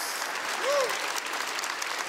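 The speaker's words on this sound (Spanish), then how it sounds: "Vamos a dar un aplauso a todos los que nos siguen en las redes sociales." A church congregation breaks into steady applause, a dense wash of clapping at moderate level, with a brief voice rising over it partway through.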